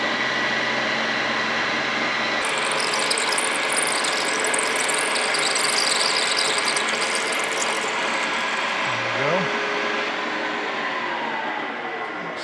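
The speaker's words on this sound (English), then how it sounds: "I'm going to drill a pilot hole here first" A Monarch Model K lathe drills a small pilot hole, with a steady mechanical whir, a high metallic squeal through the middle stretch and a brief pitch change near the end.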